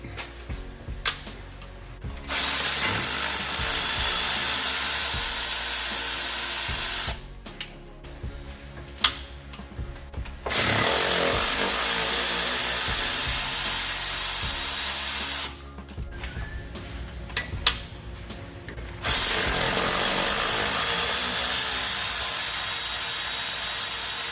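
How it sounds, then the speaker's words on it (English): An electric ratchet loosens bolts on a 2015 GMC Yukon Denali during a transmission pull, sounding as three long buzzing, whirring runs of several seconds each, separated by quieter pauses with small clicks and clanks. "After it's broke loose, then we'll go to electric ratchet."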